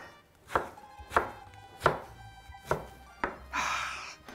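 Five sharp knife chops of a knife slicing through aubergine onto a board, evenly spaced about every 0.6 seconds, close and clear, ending in a brief scraping rustle.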